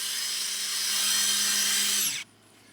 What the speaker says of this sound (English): Run your drill.